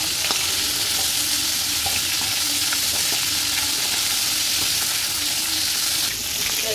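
Chopped onions frying in a pan on a home stove give a steady, loud, close sizzle that runs unbroken throughout, with no voices.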